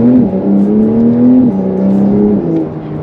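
A Porsche 911 Carrera of about 400 horsepower accelerating on the road, heard from inside as a smooth rising engine tone that shifts pitch through gears, steady and fairly loud.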